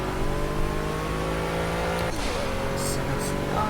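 A Pagani Huayra's engine in the racing video game Project Cars runs at a sustained loud drone, pitch dropping and climbing again as revs change, with brief high squeals near the end.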